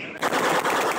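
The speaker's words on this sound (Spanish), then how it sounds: "A tiros fueron recibidos los policías que llegaron hasta el río Quito" Rapid gunfire is aimed at police at the Quito River in Chocó, Colombia, heard as a dense, loud burst of automatic shots with no talk over it.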